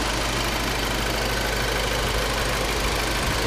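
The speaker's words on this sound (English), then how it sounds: "It's 2008 Audi A4, 2-liter turbo." A 2008 Audi A4 with a 2-liter turbo engine idles steadily under an open hood, giving a dense, even rumble with a faint knocking texture throughout. The engine runs alone, with no talk.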